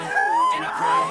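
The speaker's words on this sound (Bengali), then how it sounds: "দুটো কুকুর ছানা মাঠে খেলা করছে" A puppy playing in a field lets out a short, high whimpering yip that rises and wavers, close to the microphone and heard on its own.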